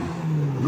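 A Toyota race car at a Thailand Super Series race holds a loud, close engine roar, a brief sustained rev.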